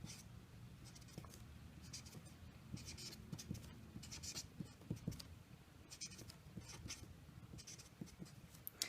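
A pen writes a maths formula on paper at close range, making faint, soft scratching strokes and light taps in short bursts over a quiet background.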